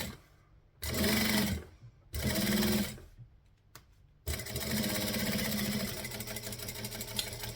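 A sewing machine runs in short bursts for back stitching, two quick runs separated by pauses and handling clicks, then a longer steady stretch of stitching, all close and clear.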